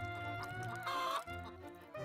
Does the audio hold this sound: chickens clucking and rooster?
yes